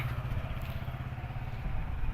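A Mahindra 475 tractor engine idles nearby at a tractor market, a low steady diesel rumble with a rapid regular throb and no speech.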